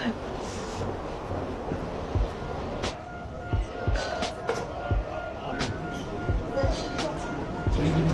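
An underground metro train in China rumbles along, its steady roar mixed with wind noise and scattered clicks and clanks.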